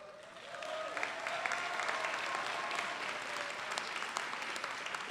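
Large audience applauding steadily at the 2022 DCC commencement ceremony in the Mid-Hudson Civic Center; dense, sustained clapping swells after a moment and holds loud for several seconds.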